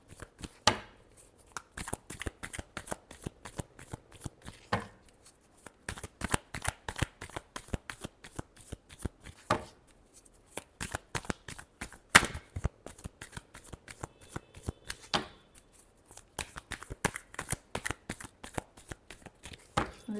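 A tarot deck shuffled by hand nearby in steady, fast bursts of papery flicks and sharper snaps over about twenty seconds, with no voices.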